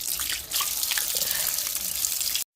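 Tap water runs steadily into a sink while tilapia and catfish are washed, a bright continuous splashing rush with small drips and knocks, stopping abruptly at the end.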